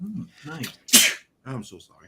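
A single sharp, close sneeze bursts out mid-conversation on a casual morning talk show, with people talking just before and after it.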